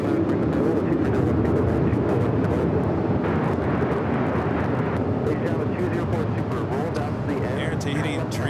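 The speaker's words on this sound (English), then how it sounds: "Air Tahiti Dreamliner heading to Papeete. Taking off here on the north side, 24 left." An Air Tahiti Boeing 787 Dreamliner takes off from runway 24 left on the north side of LAX. It makes a loud, steady, broadband jet roar that holds throughout, with a voice talking over it.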